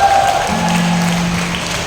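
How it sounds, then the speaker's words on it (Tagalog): Loud, steady applause from a church congregation clapping for the Lord during a service, continuous for about two seconds, with a sustained tone from sound equipment running beneath. "Grabe po yung inyong palakpak sa Panginoon."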